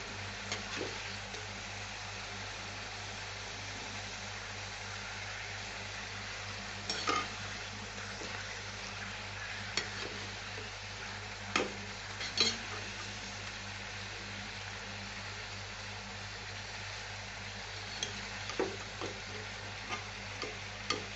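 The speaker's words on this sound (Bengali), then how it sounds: "আমি সবগুলো এরকম গোল্ডেন করে ভেজে নেব" Nimki dough pieces frying in oil give a continuous soft sizzle and bubble, with occasional sharp clinks and scrapes as they are stirred in the pan.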